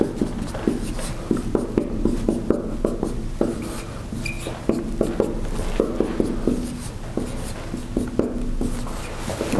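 Chalk or marker taps and scratches across a board as an equation is written during a lecture, a steady run of short strokes and clicks at close range with no talking.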